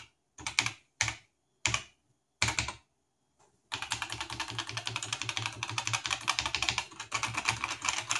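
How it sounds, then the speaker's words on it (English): An Atari XL/XE computer keyboard being typed on: a few separate key clacks with pauses, then a rapid, steady run of close, quiet keystrokes. "You can type text."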